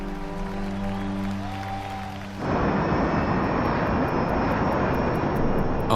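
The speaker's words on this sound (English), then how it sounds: "the Lear jet is approaching Aberdeen, South Dakota" A Learjet flies over South Dakota, heard from on board as a loud, steady broadband engine roar that starts abruptly partway through and continues alone to the end.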